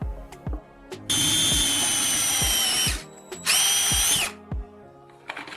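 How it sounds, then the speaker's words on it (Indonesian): A power drill whines in two bursts, about two seconds then one second, drilling a hole in a plastic pipe elbow, with sharp knocks and clatter between and around them. "Ambil sambungan pipa siku dan bor lubang di salah satu sisinya."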